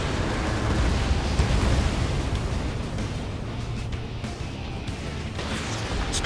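A destroyed AA gun explodes in the Ace Combat 7 video game, a dense roaring blast that rumbles on continuously and fades slightly near the end, loud with no voices.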